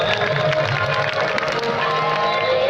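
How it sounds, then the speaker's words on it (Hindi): An audience at a Govt Islamia High School Eid Milad un Nabi prize ceremony applauds and cheers, a dense, continuous wash of clapping and crowd noise with voices mixed in. "मेहमानों के लिए तालियां बजा दें"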